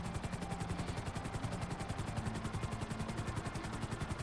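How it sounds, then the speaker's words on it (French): A helicopter in the video game GTA 5 beats out a steady, rapid rotor chop with a dense whine, continuous and fairly loud throughout with no speech. "Il y a une personne dans un hélico déjà."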